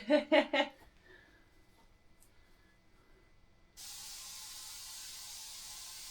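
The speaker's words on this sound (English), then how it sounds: "So hose and mist time." A garden hose with a misting nozzle sprays water over a dry-poured floor in a solar bunker vault. The steady, even hiss starts abruptly partway through and holds. It follows a short burst of voice and a quiet stretch.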